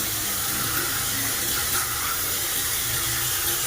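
Water gushing steadily from an air conditioner drain in a hotel during unit cleaning, a loud continuous splashing rush with no pauses.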